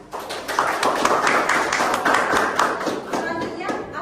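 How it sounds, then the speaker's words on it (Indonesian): A class of schoolchildren clapping hands in a classroom, a lively burst of many hands striking together close by, with distinct individual claps and voices of children mixed in. "Tepuk tangan."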